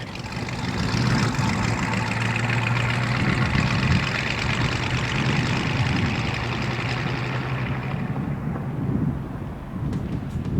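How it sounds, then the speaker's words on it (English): A 1965 Chevrolet Malibu SS convertible's 283 V8 with four-barrel carburetor and 4-speed runs with a low, steady rumble, close and fairly loud, mixed with wind noise and easing off near the end. "pump the gas to set the choke, hit the key, and your troubles are miles away"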